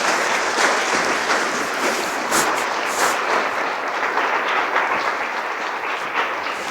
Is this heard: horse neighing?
no